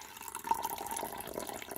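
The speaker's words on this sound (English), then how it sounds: "Now we have some water, so I'm going to pour a decant" Water poured from a container over a set of solids in a deposit bench test, a faint, steady trickle lasting under two seconds with no voices.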